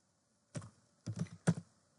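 Three separate bursts of typing clatter on a computer keyboard as a command is entered, crisp and close against otherwise silent surroundings.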